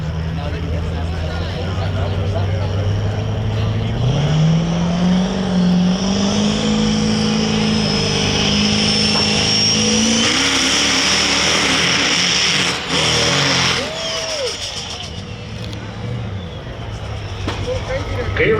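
A drag truck at a sled pull competition roars with a loud, sustained engine note that climbs in pitch as it pulls, then briefly drops and surges again near the end; a commentator talks over it throughout.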